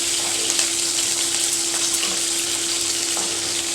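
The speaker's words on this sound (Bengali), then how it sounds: "পেঁয়াজ কুচি আর লঙ্কাটা দুটোই দিয়ে দিলাম" Chopped onion and green chilli frying in a pan for an okra and potato dish, a steady, close, loud sizzle with crackling throughout and no talk.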